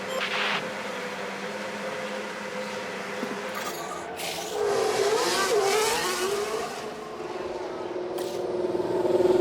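Formula 1 cars pulling out of the garage at Barcelona in F1 Manager 2024, a steady engine drone that rises into revving sweeps midway, with clicks and mechanical hiss around it.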